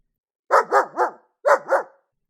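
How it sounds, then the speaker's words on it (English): A big Newfoundland dog barks nearby, three deep quick barks, a short pause, then two more, loud and clear with nothing else heard. "she is a big Newfoundland dog"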